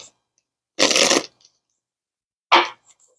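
Moonology oracle card deck being shuffled: two short, crisp riffling bursts of cards separated by a pause, close and clear in a quiet room.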